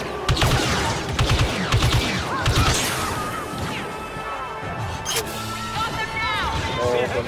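Rapid gunfire and crashing impacts in a first-person shooter match, dense overlapping bursts over continuous game noise, with a player talking throughout.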